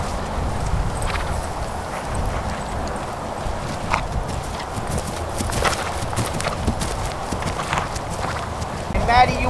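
Horse hooves clip-clop steadily on an arena surface during a riding lesson, a continuous rhythmic walking beat at moderate distance over a broad ambient rumble, with an instructor's voice heard at times.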